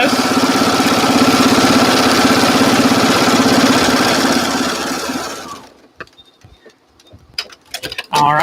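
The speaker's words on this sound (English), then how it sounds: "Come back to the sewing machine. Now I sew on this line." A sewing machine stitching quilt pieces, a steady close motor whir with rapid needle ticking that runs about five seconds, then stops and leaves scattered faint clicks and handling noises.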